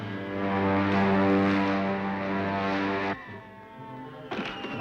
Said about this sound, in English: I hear the motor of a spaceship.